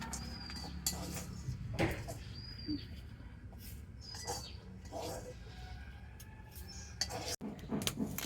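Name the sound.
stirring chickpeas frying in salt in a pan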